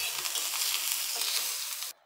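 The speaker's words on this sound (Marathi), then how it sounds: "आधी थोडंसं तेल घालू आपण, म्हणजे लवकर आपला कांदा भाजला जाईल." Onion frying in a little oil in a home kitchen pan gives a steady, close hiss of sizzling that runs alone for about two seconds, then cuts off abruptly.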